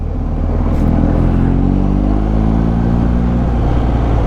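A Ducati motorcycle being ridden, its engine running steadily and close with a low droning hum that shifts pitch slightly as it goes, along with continuous wind rush.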